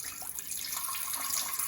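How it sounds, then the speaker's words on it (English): Water pours steadily into a container to dissolve ground yeast balls for an ancient rice wine recipe, a continuous close splashing trickle with no talking. "And I'm going to dissolve that in water."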